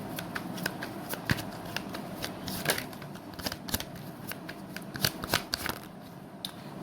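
Tarot cards being shuffled close by, a steady run of soft riffling snaps and papery flicks with irregular louder clacks, quiet and without talk.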